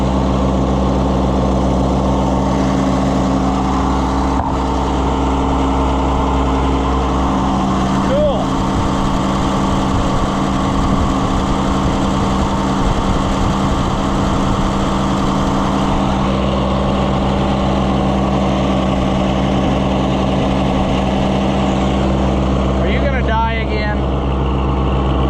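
An Oliver tractor engine idles steadily, a loud, even low-pitched rumble that holds for the whole stretch, with a few light clanks and faint background voices.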